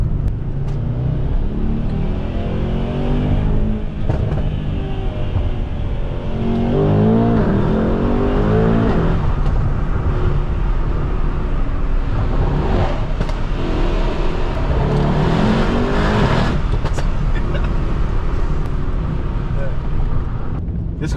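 A Mercedes-AMG E63 S car engine revs repeatedly over steady road and wind noise, the pitch climbing and dropping in bursts, with a voice speaking at moments.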